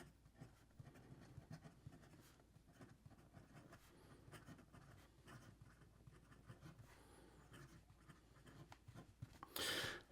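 A Radius Prisma fountain pen with a Jowo nib scratches steadily across paper, close and quiet, a continuous run of small strokes with a brief louder rustle near the end.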